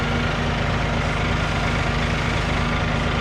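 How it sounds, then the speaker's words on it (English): Tractor engine settling to a low idle after the RPMs are turned down, a steady loud diesel rumble with constant vibration and no talk. "Turn the RPMs down, hear the tractor dialing down"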